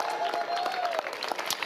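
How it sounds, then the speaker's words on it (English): A crowd at a Major League Pickleball event in San Clemente applauds with a dense patter of clapping, joined by a faint voice and a brief tone. "give you guys a round of applause"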